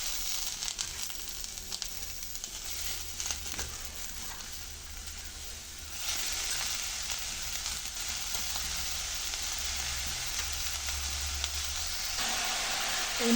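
Ponnanganni greens with dried prawns and coconut sizzle steadily as they are stir-fried in a hot pan, a broad continuous frying hiss that grows louder partway through, with no talk.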